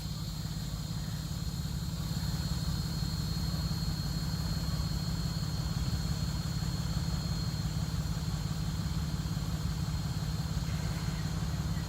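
A Piper Supercub Widebody seaplane's engine idles steadily on the water for a long warm-up, a loud, constant low drone with an even throb and no voices.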